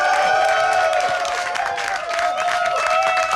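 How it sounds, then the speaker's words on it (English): A crowd of fans at a StarCraft WCS European Premier League event cheers and claps near the microphone, with dense overlapping voices and excited shouts over scattered applause. "A lot of happy DIMAGA fans here after that victory."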